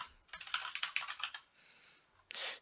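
Quick bursts of keystrokes on a computer keyboard, a dense run of clicks then a pause and a final short flurry, close and fairly quiet, with no voices.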